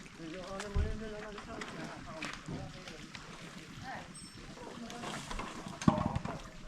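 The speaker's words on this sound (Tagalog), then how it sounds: "Yan na po yung makina ng panghila." Motor of a puller engine set up to haul a bangka boat ashore, running as a steady low drone under continuous talk and background voices.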